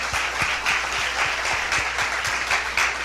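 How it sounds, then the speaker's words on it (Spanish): Church congregation gives a strong round of applause to the Lord, steady sustained clapping with a rhythmic beat of unified hand claps running through it. "denle un fuerte aplauso al Señor"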